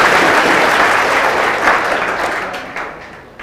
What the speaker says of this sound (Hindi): ताली बजाइए उसके लिए